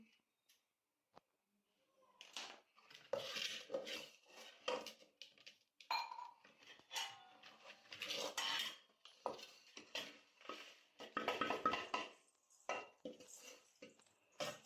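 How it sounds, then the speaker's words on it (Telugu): A spoon scrapes around the inside of a cooking pot while a sweet is being made, giving short intermittent metallic scraping and clinking strokes that come close and fairly quiet, separated by brief pauses. "ఇప్పుడు మా మమ్మీ గిన్నె కత్తుకుంటుంది కదా రౌండ్కు అదంతా స్పూన్స్ గట్టి సహాయంతో అంతా నీట్గా తీసుకుంటుంది"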